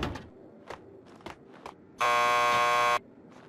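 In the video game Max Payne 2, a door buzzer gives one loud, harsh electric buzz lasting about a second. A few soft footsteps come just before it.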